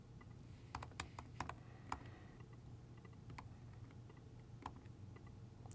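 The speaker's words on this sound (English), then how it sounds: "You'll type in the username." Quiet keystrokes on a computer keyboard while entering a username during development setup, irregular clicks scattered over low background hum.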